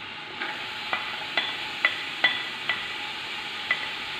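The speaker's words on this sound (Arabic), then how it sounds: "نخليهم يتقلاو شويه" Onions fry in a little oil in a pan for a tagine with peas, a steady soft sizzle broken by seven sharp scrapes of a spoon stirring at an even rhythm, close and alone.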